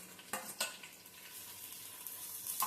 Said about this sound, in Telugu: ఉల్లిపాయలు వేస్తున్నాం. ఫస్ట్ ఉల్లిపాయలు వేగిన తర్వాత